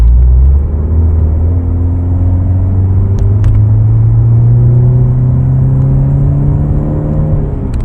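A 2004 BMW 318i E46 fitted with an M3-style dual exhaust accelerates hard on an open road. Its engine note climbs steadily and loudly, heard close up for several seconds with no talking.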